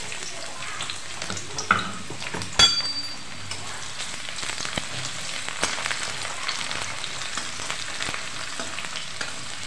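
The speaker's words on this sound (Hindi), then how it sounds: "कढ़ाई में तेल डाल दिए हैं गर्म हो चुका है तो डाल देते हैं सरसों प्याज डाल देते हैं" Mustard seeds and onion fry in hot oil in a kadai, giving a continuous crackling sizzle. A sharp clink of a utensil stands out early on, followed by occasional stirring scrapes.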